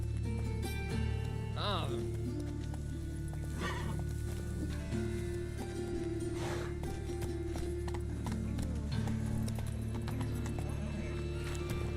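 Roach the horse in The Witcher 3 neighs in a shaky whinny near the start while steady clip-clop hooves and a low ambient hum run throughout, with someone briefly speaking over it.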